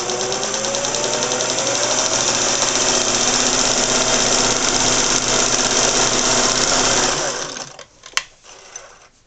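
A vintage Singer 401A sewing machine stitching through two layers of denim, a loud steady mechanical whir with rapid needle clatter running for about eight seconds before it stops, followed by a few small clicks.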